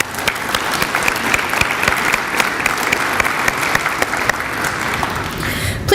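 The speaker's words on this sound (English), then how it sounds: "So please give a round of applause for today's sponsors." A business chamber luncheon audience claps for the event sponsors, a full, continuous round of applause with crisp individual hand claps standing out near and far, sustained without pause and picking up a brief extra burst at the end.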